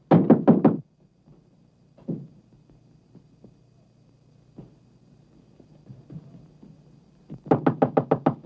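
Sharp rapid knocks hit a locked door in two bursts, one at the start and one at the end, with a quiet hum and faint movement between them.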